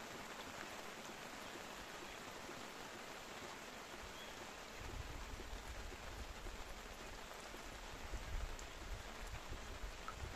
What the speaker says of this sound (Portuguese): A chuvinha assim é chique, ó. Não tem vento, a chuva não tá fria